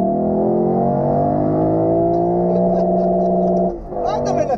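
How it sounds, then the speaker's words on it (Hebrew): A Lexus LC500 V8 revs loudly from inside the cabin, its rising engine note climbing steadily for several seconds before dropping sharply and rising again, with brief crackles on the overrun. "וואו, איזה סאונד ה-LC500 של לקסוס מוציאה"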